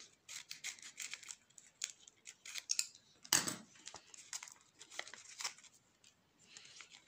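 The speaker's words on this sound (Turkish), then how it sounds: "Makasımız." Scissors snip repeatedly while a handmade surprise explosion box is being opened, with rapid close crisp cuts and one louder clatter midway.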